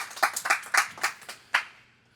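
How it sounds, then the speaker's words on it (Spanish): A church congregation claps in a Sunday Communion service, about seven sharp claps in an uneven rhythm, close and fairly loud, with no talking. "Dele palmas al Señor, hermano."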